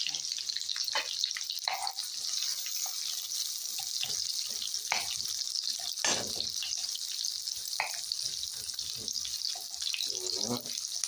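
Onions hiss and sizzle steadily in a pan of melted butter and olive oil, a constant frying crackle with occasional louder pops and clinks of stirring, no talking.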